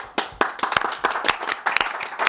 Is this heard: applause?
yes